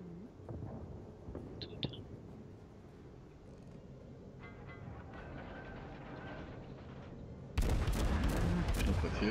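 Heavy naval gunfire in World of Warships, the Admiral Hipper cruiser under fire from the Bismarck at sea: a low, rumbling battle bed with scattered booms, then a loud, dense burst of cannon blasts near the end.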